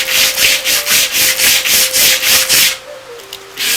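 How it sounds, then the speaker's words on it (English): Rapid back-and-forth rubbing of coarse sandpaper on wood, about a dozen quick strokes in a steady rhythm, close and loud, then stopping. "I'm blending it back in with this heavy sandpaper."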